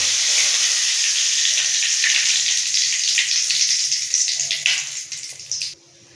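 Curry leaves and bay leaves sizzle in hot oil, a loud steady hiss that crackles and sputters, then fades in uneven bursts before cutting off near the end.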